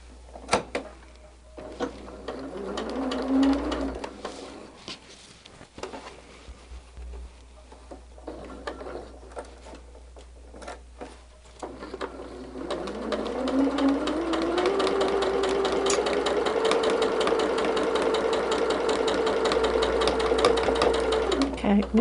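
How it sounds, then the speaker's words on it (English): Sewing machine stitching a Diamond Star barn-star quilt block: a short whirring run, a pause filled with handling noises and some speech, then a longer steady run of rapid stitching that climbs in pitch and holds. "you could hear a little change in the pitch of the stitch, but you didn't have that clunkiness of the machine sewing through the pin"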